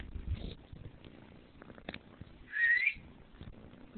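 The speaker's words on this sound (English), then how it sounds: "Whistle." A person whistling briefly near a kitten: a short rising whistle note stands out over low rustling and handling noise.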